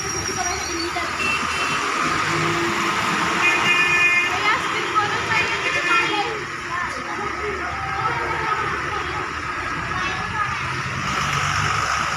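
Heavy road traffic backed up on a rain-soaked road under repair, a steady close roar of engines with car horns tooting now and then, while a person talks over it.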